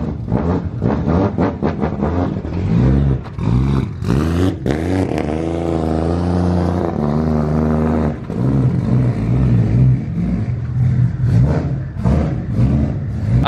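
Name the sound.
car doing a burnout, engine revving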